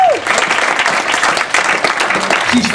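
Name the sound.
audience applause at press conference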